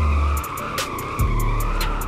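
Tires squeal and skid as a car drifts on a drift track in Southwest Florida, a loud close screech under a revving engine, with sharp pulses and a heavy thump partway through.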